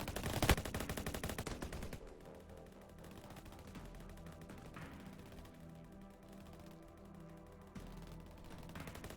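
Infantry units firing in the Commanding Nations real-time strategy game, with a sharp burst of rapid shots up front, then scattered gunfire crackling at moderate loudness over a low battle background.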